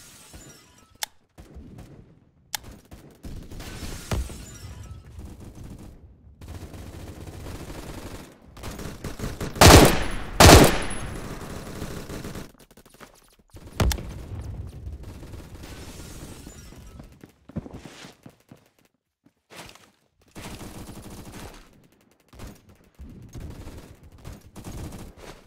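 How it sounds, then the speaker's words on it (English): Scattered gunfire in the Roblox shooter Phantom Forces, isolated shots and short bursts spread across a quiet stretch, with a pair of loud close blasts in the middle and fainter distant shots around them. "If that's you shooting at me, you're missing."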